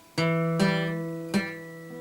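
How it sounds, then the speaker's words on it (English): A guitar chord is strummed three times, each ringing out with a slightly fuzzy, buzzing edge from strings not cleanly fretted. "You might get a buzzing sound or a fuzzy sound like this."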